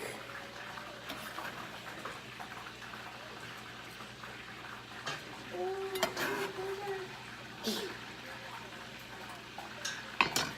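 Turkey chili being stirred in a pot, with soft scraping and clinking of a utensil against the pot over a low background hum, a few louder knocks near the end.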